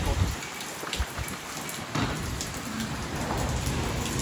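Heavy rain pours steadily during an unseasonal summer storm in Rajkot, a dense continuous hiss with scattered louder drops and gusts, close and fairly loud, with no voices.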